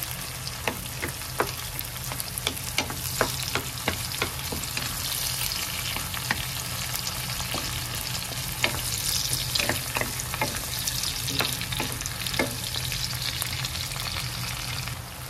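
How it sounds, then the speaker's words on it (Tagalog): Shrimp sauté in a pan with crushed tomato, giving a continuous sizzle punctuated by sharp scraping clicks of stirring, close and fairly loud, with no talking. "Ilagay na gisa na natin yung hipon"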